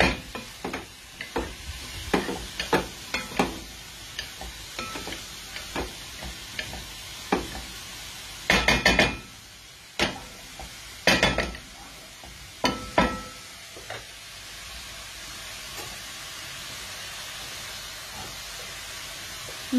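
Grated carrots sizzle in a pan on a high flame while a utensil scrapes and stirs them in irregular bursts, with louder clusters of stirring midway before the steady frying hiss carries on alone.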